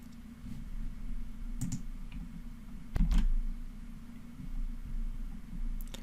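A handful of sharp, isolated computer mouse clicks over a steady low hum, with a louder pair of clicks in the middle.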